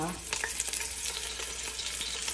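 Bitter gourd sizzles in about 50 ml of hot oil in a kadai, a dense, even crackle with small stirring knocks, close and steady throughout, no talking.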